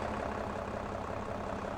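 A farm tractor engine runs steadily throughout, a loud, continuous low rumble with no breaks or changes in pace.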